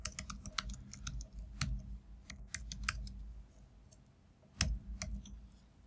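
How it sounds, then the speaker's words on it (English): Typing on a computer keyboard, a close, quiet run of irregular key clicks with a sharper louder tap near the end, no voice. "I'm going to type in the event"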